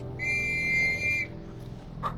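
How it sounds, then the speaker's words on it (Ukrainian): A high, steady electronic whistle holds for about a second, with faint harmonics above it, then stops; a brief chirp follows over low game background hum. "Чешуйниці свистять, кажуть їхній це як атакують."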